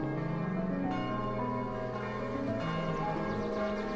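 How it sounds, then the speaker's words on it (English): Bells chime softly in the video game Kingdom, ringing tones layered over a gentle musical bed for several seconds, quiet and with no voices. "I'm not really sure what the bells indicate."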